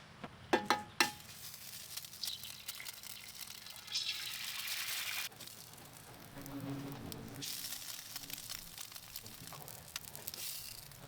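Oil and an egg frying on a Ninja Woodfire griddle, starting with a few sharp clicks, then a steady close sizzle that swells and fades in waves, without speech.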